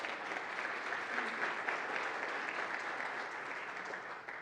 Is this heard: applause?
yes